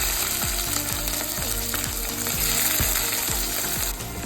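Cumin, curry leaves, garlic and green chillies frying in hot oil while cabbage and moong dal curry is prepared, giving a loud, steady sizzle with repeated scraping strokes throughout, no voices.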